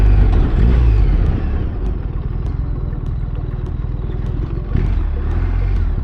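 BMW R1300GS motorcycle engine running steadily as the bike turns around, a loud close low rumble that holds through the clip with a brief surge near the end.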